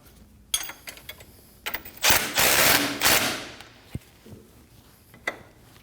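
Ratchet clicking while a bolt on the lower front control arm of a Kia Optima is snugged down, short bursts of near, sharp mechanical ticks, with a louder, denser stretch in the middle.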